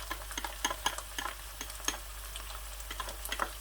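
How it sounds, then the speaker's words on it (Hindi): Garlic paste is stirred into onion paste browning in a pan for masala chicken, giving a soft continuous sizzle with light scraping ticks of the spoon, fairly quiet and without talk. "इस मौके पे लहसुन की पेस्ट जो है वो बीच में ऐड कर लेनी है साथ ही इस तरीके से।"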